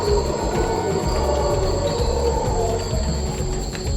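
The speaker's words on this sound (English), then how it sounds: "Can you hear the monkeys?" Howler monkeys call at dawn around 5:30 a.m. in Tortuguero, their roaring chorus a steady, dense rumble that carries from a distance and fills the whole stretch with no pause.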